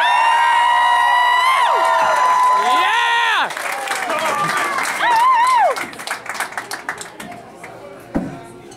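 A stand-up comedy crowd in Missoula applauds and cheers loudly for a comedian, with whoops and shouts rising over sustained clapping before it thins out into scattered claps and voices.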